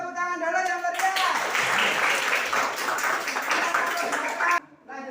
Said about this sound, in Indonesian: Maaf, ya, tepuk tangan dulu yang meriah.